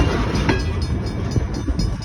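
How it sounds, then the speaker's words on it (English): A potash freight train rolls past on the North Bridge line in Prince Albert, a steady, loud rumble with broadband rail noise and occasional wheel clatter, close by and continuous without talk. "This is a potash train."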